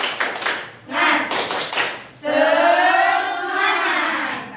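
Classroom audience performing the rhythmic 'tepuk semangat' clapping routine: bursts of sharp group claps in a set pattern, then a loud chanted shout of many voices together.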